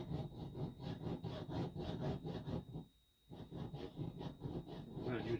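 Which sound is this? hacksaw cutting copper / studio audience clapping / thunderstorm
hacksaw cutting copper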